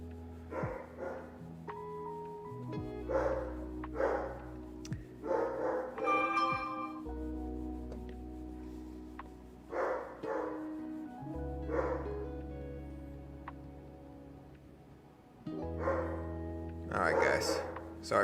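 Dogs bark and yip in short bursts, several times across the stretch, fairly close in a home setting, with someone talking steadily under and between the barks.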